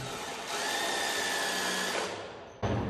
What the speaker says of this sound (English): Trying to get where best to drill these holes